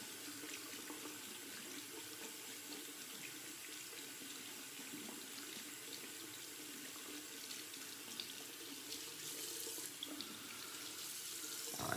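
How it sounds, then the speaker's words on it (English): A synthetic shaving brush is rinsed under a running tap into a sink, giving a steady, moderately loud hiss of flowing water with light splashing throughout and no voice. "So let me go ahead and just rinse it off really quick."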